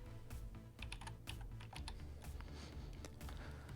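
Numbers and a date entered on a computer keyboard in a spreadsheet, a quick run of light, close key taps at a low level with no voices.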